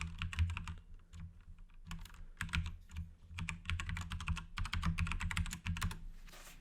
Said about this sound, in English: you're going to type in the email address you used to create that login